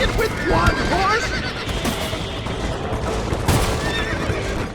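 A horse in the video game Red Dead Redemption whinnies loudly, followed by a second neigh, over hoofbeats clip-clopping and a busy background of commotion and shouting voices.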